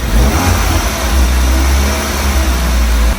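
A BMW E36 engine runs loud and close, holding a steady, throaty idle with slight rises in revs, with no one speaking.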